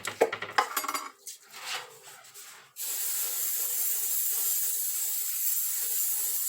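Clattering of metal pans and utensils in a kitchen during bread baking, then a sustained hissing spray from a spray can starts and continues steadily to the end.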